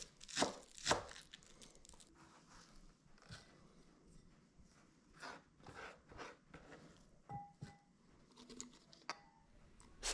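Green onion being chopped on a cutting board for a chili crisp topping, a run of quick knife taps with sharp clustered chops, moderately close and clear with no talk.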